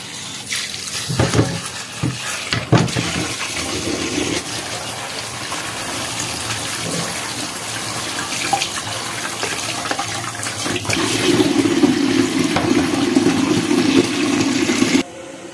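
Tap water gushing steadily into a bowl to soak sliced potatoes in a home kitchen, a continuous splashing rush that grows fuller toward the end before stopping.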